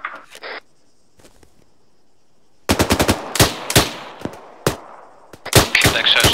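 Bursts of machine gun fire in ArmA 3 rattle out loud and close after a quiet stretch, a rapid run of shots followed by several shorter volleys.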